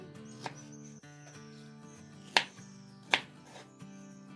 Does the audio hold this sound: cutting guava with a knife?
yes